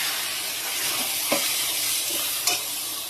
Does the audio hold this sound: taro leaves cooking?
yes